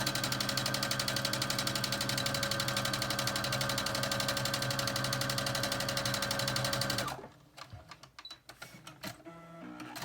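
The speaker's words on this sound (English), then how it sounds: "I'm just going to sew this top right here down" A sewing machine stitches quilt blocks for a cross weave quilt, running in a steady loud whir for about seven seconds before stopping, followed by quieter handling noises.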